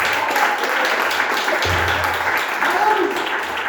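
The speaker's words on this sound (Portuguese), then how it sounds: "E a igreja pode aplaudir o nome do Senhor." A church congregation claps during an evening service, a steady crowd of hands that continues throughout while voices are heard over it.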